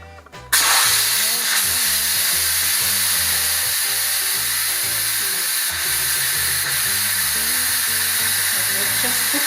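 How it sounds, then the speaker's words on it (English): An Instant Pot pressure cooker vents steam after cooking chocolate peanut butter lava cakes, a loud sudden hiss bursting in and then sustained evenly for several seconds, close up, over a low mechanical hum. "It's just cooked and I've released the pressure straight away"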